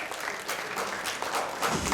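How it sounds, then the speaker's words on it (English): An audience applauds the Twitter contest winner Nikhil at a launch event, a steady broadband wash of many hands clapping for about two seconds and swelling slightly louder toward the end. "Let's have a loud round of applause for Nikhil"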